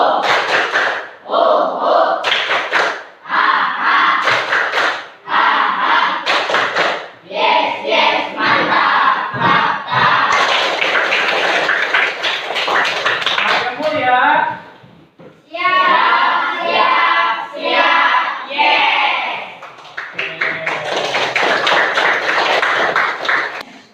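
A class of fifth-grade pupils does a rhythmic spirit clap, loud bursts of patterned clapping mixed with children's shouted chanting, broken by short pauses.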